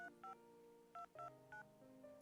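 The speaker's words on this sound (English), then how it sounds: "I dial the familiar numbers and press the phone to my ear." Keypad tones from a hospital phone being dialed, several short evenly spaced beeps in quick succession, close and fairly quiet, with no voices.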